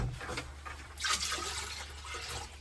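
Leftover liquid poured into a sailboat head during winterizing of a Yanmar 2GM20F diesel, a short splashing, gurgling pour up close lasting a couple of seconds.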